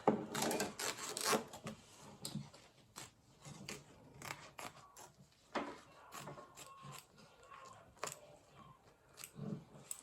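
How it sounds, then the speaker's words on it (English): Applique scissors cut embroidered fabric out of a hoop, making a close, crisp series of irregular snips and rasping blade strokes with short pauses between cuts. "I'm going to use my applique scissors to just cut it out of the hoop."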